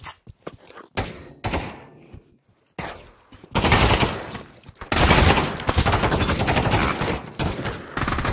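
Gunfire in the VR shooter Pavlov VR, with a few sharp isolated shots followed by dense, loud bursts of rapid automatic fire that continue to the end.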